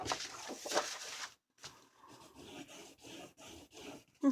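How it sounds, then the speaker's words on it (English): A paper edge on a Christmas mini album is burnished by hand, giving soft, close rubbing strokes in short irregular bursts with brief pauses, fairly quiet and with no voices. "now I want to burnish this down"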